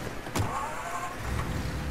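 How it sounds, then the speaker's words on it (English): A car driving in the Mafia Definitive Edition video game, a steady engine hum and road noise with a brief whoosh early on, moderately loud and continuous, with no talking. "drive to Sarah's apartment"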